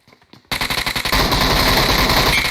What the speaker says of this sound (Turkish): orada bu adam vuruyor hala